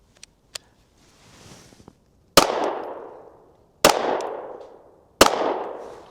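Three sharp, loud gunshots from a hammer-fired .380 pistol firing Buffalo Bore +P ammunition, evenly spaced about a second and a half apart, each followed by a decaying ring, after a few faint handling clicks.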